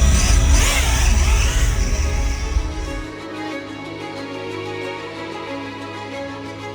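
Aggressive high-pitched whine of an FPV drone flying on Azure Power 6.1 inch, 4.5 pitch propellers, loud and surging at first, then easing to a steadier, quieter buzz.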